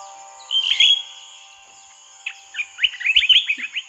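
Birdsong from the nature ambience of the relaxing video game Forest Island: a clear chirp, a pause, then a quick run of bright tweets against a faint steady hum.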